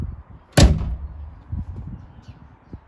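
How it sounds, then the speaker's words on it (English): The hood of a VW ID.3 is shut with one solid, close thud, followed by faint handling noises. No one speaks. "then bring the hood down"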